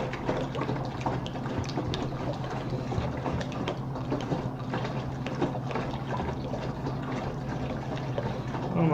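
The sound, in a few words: cold water pouring into fermenter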